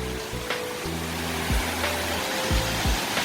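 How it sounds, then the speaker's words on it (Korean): Yukdam Falls in Seoraksan, a waterfall over 40 metres tall dropping into a deep pool, gives a steady, close, full rushing roar with a few faint tonal hums over it. "육담 폭포입니다 엄청나게 기네요"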